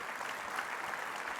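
Steady, dense applause from a banquet audience at an awards dinner, a continuous wash of many hands clapping at even loudness throughout with no voices standing out.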